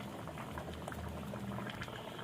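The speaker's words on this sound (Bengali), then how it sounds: "ঝোলটা ফুটে উঠেছে, নুনটা দিয়ে দেবো।" Curry gravy with elephant foot yam bubbling steadily in a pot, a dense continuous simmer with small irregular pops and patters, close and fairly quiet, with no one talking.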